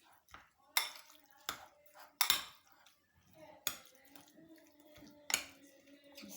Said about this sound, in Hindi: अब इसे हम अच्छे से मिक्स कर लेंगे।